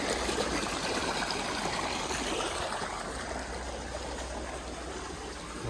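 Water gushes steadily from a tubewell motor pump irrigating a wheat field in Punjab, a dense, close rushing and splashing that never lets up, with no voices.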